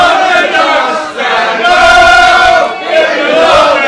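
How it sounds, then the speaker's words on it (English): A loud crowd chanting at a darts match, voices blended into a sustained roar that swells and dips over a few seconds, with no clear individual speech. "We've got a crowd chant going, team."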